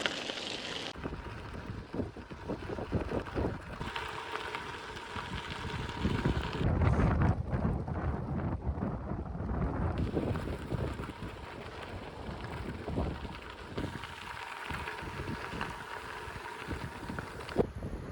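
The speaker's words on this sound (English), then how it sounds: "Got the wind at our backs." Wind rushes over the microphone on a gravel trail while bikepacking between Seattle and Yakima, a loud, buffeting roar with gusty surges and tire crunch mixed in, no voices.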